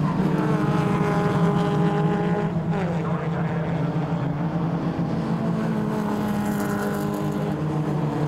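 BMW Compact Cup race cars scream along the straight at Snetterton. Several high-revving engines overlap, loud and close, with audible gear shifts, under a commentator talking throughout.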